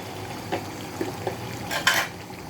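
Chicken curry with garam masala is stirred in a pan, giving soft scrapes and light sizzling, with a sharper metallic scrape near the end.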